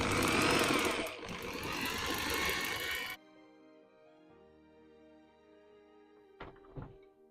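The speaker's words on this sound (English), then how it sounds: "run it with an electric drill, the 5/8 socket on there" An electric drill fitted with a 5/8 socket spins over a Ford engine in a Pietenpol aircraft, giving a loud, continuous whirring drone for about three seconds before cutting off, followed by quieter tones and a couple of thunks.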